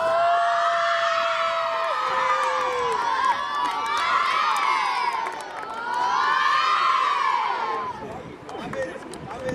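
A large crowd of children cheers and shouts continuously at a youth football award ceremony as a silver-cup victory is celebrated. The excited, loud voices rise and fall in waves throughout.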